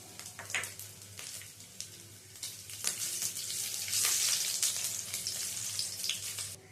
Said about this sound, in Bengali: সর্ষের তেলটা গরম হয়ে গেছে এবারে এই তেলের মধ্যে ভেজে নেব নারকেল কুচি